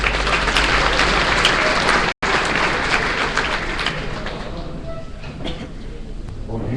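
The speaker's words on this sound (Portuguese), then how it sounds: "Vamos repetir nosso aplauso ao Dr." Conference audience applauding at an international Coffea canephora coffee event in Espírito Santo, a dense continuous clapping wash that briefly cuts out, then carries on and gradually thins toward the end.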